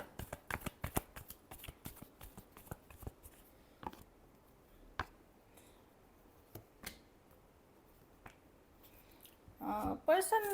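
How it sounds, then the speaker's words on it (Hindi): Tarot cards being shuffled by hand, a quiet series of crisp flicking and riffling snaps, sparse and close, with louder shuffling near the end and soft speech around it. "Last shuffle."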